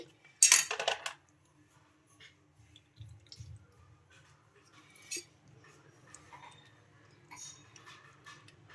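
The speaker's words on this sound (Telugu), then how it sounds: "నిమ్మకాయలు అయితే కట్ చేస్తున్నానండి" A knife cuts through lemons in a home kitchen: one loud, close clattering knock near the start, then quieter scattered taps, clinks and small wet sounds of blade and fruit against the surface, with no talking.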